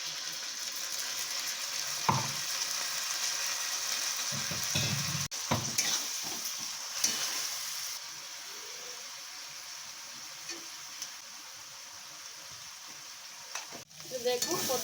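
Spice paste fries with potatoes in a pan, a steady close sizzle with occasional stirring scrapes and utensil clinks.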